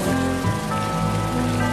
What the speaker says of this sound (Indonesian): Di tengah hujan deras